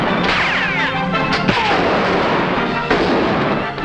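A 1945 Western film: gunshots and booming reports ring out under a dense, loud soundtrack of music and action noise, with a couple of sharp cracks standing out.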